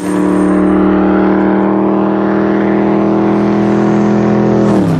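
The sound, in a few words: V8 Ford Mustang engine bellow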